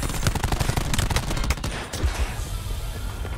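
Rapid bursts of automatic gunfire from a competitive Call of Duty CWL Pro League match between OpTic Gaming and Reciprocity, dense and loud with overlapping shots for most of the span, thinning slightly toward the end.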